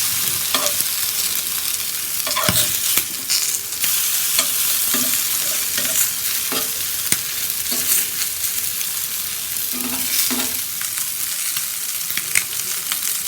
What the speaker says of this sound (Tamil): நல்லா திருப்பி 4 பக்கமும் திருப்பி விட்டு நல்லா நம்ம வேக வச்சு எடுத்துக்கணும்.